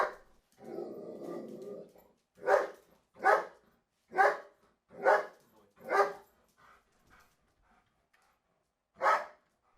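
A reactive dog snarls in a low growl, then barks six times in quick succession. A pause follows, then one more sharp bark, all close and loud with no talking.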